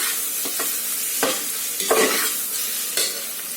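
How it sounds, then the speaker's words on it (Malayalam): Onions sauté with ginger garlic paste in a pressure cooker, a steady close sizzle broken by several scraping stirs of a spoon against the pot. "നമുക്ക് ഇതിലേക്ക് ഇഞ്ചി വെളുത്തുള്ളി പേസ്റ്റ് ഇതുകൂടെ നല്ലവണ്ണം ഒന്ന് മിക്സ് ചെയ്ത് കൊടുക്കുക."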